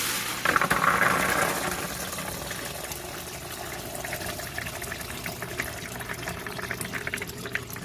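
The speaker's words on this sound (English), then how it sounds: "we are just filling it back up again with some filtered water" Filtered water runs into a bowl of strained chickpeas as a steady, soft pouring wash that is louder at the start and then settles into a quieter, even trickle.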